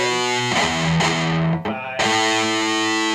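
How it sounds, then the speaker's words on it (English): A distorted electric guitar plays a metal riff that mixes chugging palm-muted notes with ringing fretted notes, loud and up close, broken by a short gap partway through, with a brief spoken word over it. "it's palm mutes mixed with the notes."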